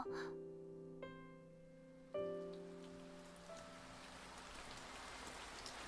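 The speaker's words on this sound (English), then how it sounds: "the predicted rain from today's forecast had begun to fall" Soft rain falls in the visual novel Kinkoi: Golden Time as a quiet, even hiss that builds gradually beneath a few gentle, sustained piano notes.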